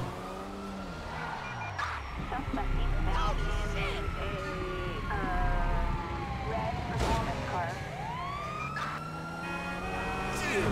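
Police car sirens wail in the GTA 5 video game, rising and falling tones layered over steady car engine and traffic noise, continuous and fairly loud throughout, with someone talking over it.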